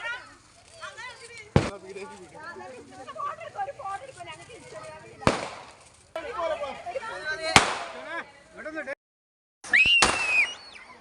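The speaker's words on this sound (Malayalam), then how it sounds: "പടക്കം പിടിച്ചുകൊണ്ടിരിക്കുകയാണ്" Four sharp firecracker bangs go off a few seconds apart at an Eid celebration, loud and sudden, with excited voices chattering in between.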